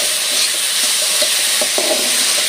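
Drumstick leaves and egg stir-frying in a pan give a steady, close hiss and sizzle, with a few soft scraping knocks from stirring scattered through.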